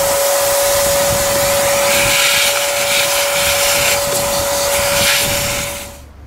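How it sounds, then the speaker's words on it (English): A loud vacuum cleaner whines steadily as it sucks sand, debris and bugs out of an air filter housing, then cuts off at the end. "So it's a good idea to go ahead and vacuum that out."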